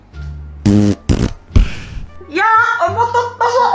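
A fart, a short, buzzy, close burst, preceded by a low hum and followed by a voice speaking.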